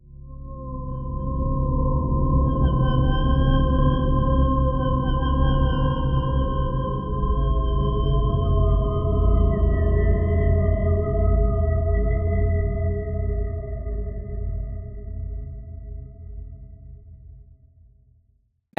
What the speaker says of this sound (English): The sound in this video that I'm making is an atonal atmosphere